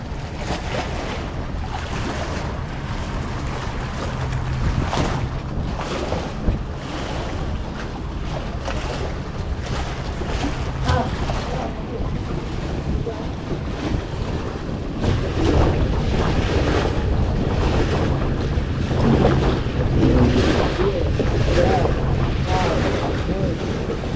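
High ocean waves on a beach in Taiwan rush and crash in a steady roar, mixed with heavy wind buffeting the microphone, with occasional faint voices in the background.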